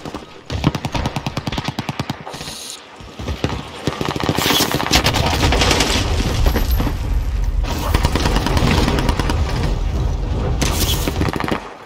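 Rapid automatic gunfire from the Call of Duty Warzone video game rattles in loud bursts, with a short pause before sustained, dense firing and booming impacts continue close up.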